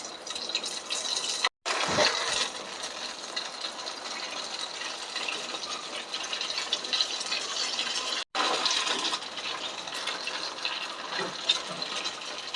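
Karanji pastries fry one at a time in hot ghee, giving a continuous close sizzle and bubbling broken by two brief silences, with no talking.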